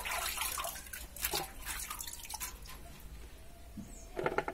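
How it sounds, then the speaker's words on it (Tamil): Tomatoes are swished and rinsed in water in a home kitchen, with soft splashes and drips. The sound is faint and quiet, with no voices. "தக்காளி அலசி"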